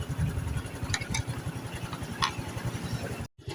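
A Honda Wave 110i motorcycle engine idles steadily, its fast even putter running throughout with a few sharp clicks on top and a brief dropout near the end, heard close with no talking.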